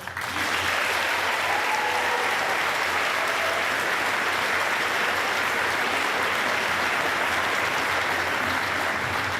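An audience at an eighth-grade school graduation applauds the graduating class, with sustained, even clapping from a large crowd that holds steady for about nine seconds and fills the room.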